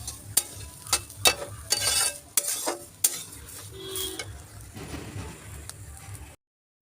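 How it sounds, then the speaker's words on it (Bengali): Broken wheat (dalia) frying in a pan for vegetable khichuri, with a low sizzle under repeated loud scrapes and knocks of a spoon against the pan, ending in a sudden cutoff. "এবার এটা আমি একটু ভেজে নেব।"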